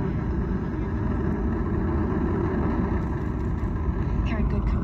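The deep, continuous roar of the SLS rocket core stage and two solid rocket boosters during the Artemis I launch, a heavy broadband rumble holding steady and loud throughout without pause.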